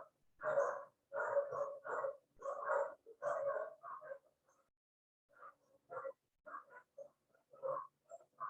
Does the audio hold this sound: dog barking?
yes